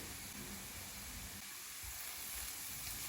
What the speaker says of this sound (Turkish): Pırasaları bir tur kavuruyorum önce